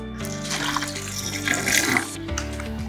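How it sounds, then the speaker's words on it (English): A quarter liter of water poured from a measuring cup into a container while making an organic pesticide, a close, steady splashing pour that swells briefly before ending, over a low background hum. "After pouring the 1/4 liter of water, we can shake for some little time."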